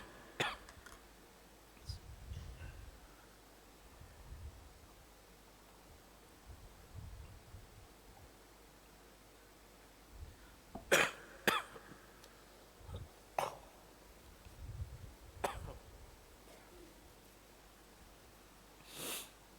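Several separate coughs and throat clearings from a person with a lingering post-COVID cough during an evening religious lecture at the UPM university mosque, sharp and fairly near against a quiet room hum, scattered irregularly with no talk between them.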